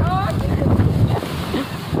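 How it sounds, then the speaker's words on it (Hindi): Strong storm wind blows hard and close, roaring as constant broadband buffeting against the microphone throughout, with a voice faintly present underneath. "बहुत तेज हवा है उधर।"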